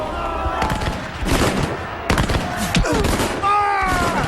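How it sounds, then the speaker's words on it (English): Musket volley fire in a Battle of Waterloo film scene as troops close on the British line, dense crackling bursts of shots rolling in waves, loud and close, with shouting voices and a faint musical tone mixed in. "As they approach the British line, the first shots are exchanged."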